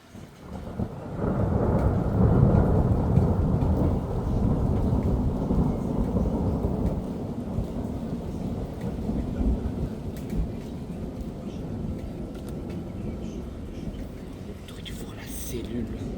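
A violent thunderstorm over Pfastatt in early June sends deep, rolling thunder over dense, continuous rain, loud and sustained before easing slightly, while faint voices murmur at times.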